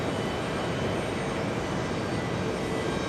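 An Ethiopian Airlines jet at JFK airport sends out a continuous, even engine roar that fills the whole stretch without pause or speech.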